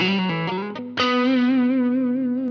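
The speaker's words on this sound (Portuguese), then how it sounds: "Eu tenho um drive mais light, né?" An electric guitar played through a Line 6 POD HD500X with a light overdrive tone rings out, a few picked notes followed by a sustained chord that slowly decays.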